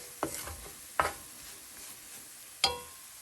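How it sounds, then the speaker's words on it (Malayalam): Roasted ground masala is stirred into onions in a pan for Kerala-style chicken curry, three sharp metallic scrapes of a spoon against the pan over a soft background sizzle, close and otherwise quiet, without speech. "ഇത് മസാല നമ്മൾ വറുത്ത് പൊടിച്ചത് ഇതിനകത്തോട്ട് ഇട്ട് കൊടുത്ത് കഴിഞ്ഞ് ഇതെല്ലാം കൂടെ ഒന്ന് മിക്സ് ചെയ്ത് വെക്കാം"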